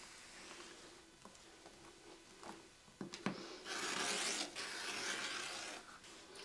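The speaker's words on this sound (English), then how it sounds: "And I can trim off the both edges." Quilt block fabric edges being trimmed, soft scraping and rasping cuts with a few sharp clicks, then a longer steady swish, faint and close in a quiet room.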